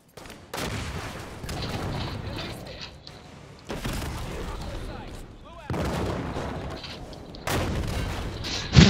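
Gunfire and explosive blasts from a Halo 5 capture-the-flag match, arriving in dense bursts separated by brief lulls, with a loud boom at the very end and players talking over the action.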